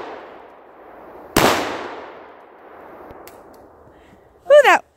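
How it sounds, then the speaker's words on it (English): A Ruger SP101 .357 Magnum revolver fires once outdoors in the snow. The single sharp, loud crack is followed by a quiet hiss, then a brief voiced exclamation near the end. "that gun loud"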